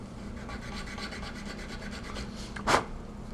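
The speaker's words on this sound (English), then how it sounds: "A little edge sanding." Rapid rhythmic rasping strokes of sanding along the edge of a Boba Fett prop replica part, close and steady, ending with one sharper scrape.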